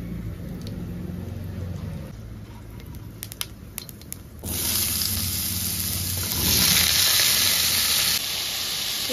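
Panch phoron spices and a dried chilli dropped into hot oil in a wok, a sudden loud sizzle bursting in after a quieter start and swelling into steady, hissing frying.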